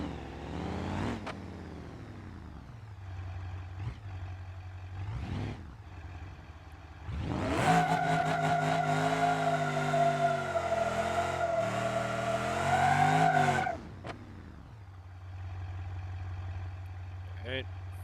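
A Plymouth Crusher MoonHawk muscle car in the BeamNG.drive driving game revs hard through a long burnout with its rev limit raised, tires squealing in a loud sustained howl between quieter idling and short blips, with someone talking over parts.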